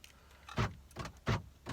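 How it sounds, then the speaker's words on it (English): A car door being locked at night from the back of the vehicle: three short, sharp mechanical clunks spaced roughly a third of a second apart, close and fairly loud over a quiet background. "lock the door, of course."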